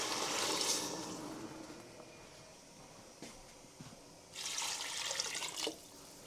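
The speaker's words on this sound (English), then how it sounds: "So I'm going to add in our potatoes and water now." Water pours from a tap into a cooking pot of potatoes in a home kitchen. The first pour is loud and broadband, a quieter lull follows, then a second burst of running water for about a second before it stops.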